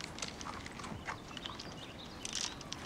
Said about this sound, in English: Take this horse.